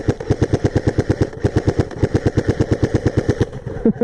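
An airsoft M4 carbine replica fires a fast, steady burst of sharp, evenly spaced mechanical shots, loud and close, with a brief pause midway before the rapid fire resumes.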